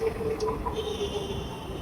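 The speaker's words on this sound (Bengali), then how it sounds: "তো ট্রেন এসে পড়ছে।" A Dhaka metro train pulls into the station with a steady low rumble and a faint high whine, a brief muffled hum heard from the platform.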